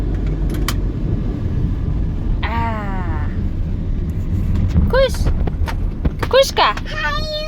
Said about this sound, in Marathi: हळू गाडी चालवा पप्पा.